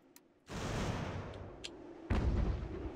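Cannon artillery fire in the video game Ultimate General: American Revolution, two heavy booming shots about a second and a half apart, each followed by a rumbling roll, with faint sharp pops between.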